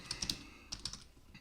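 A command is typed on a computer keyboard while setting up a Raspberry Pi web server, a quick quiet run of light clicky keystrokes in two short bursts, close and alone.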